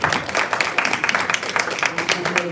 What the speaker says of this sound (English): Please give a guy a huge round of applause, everyone.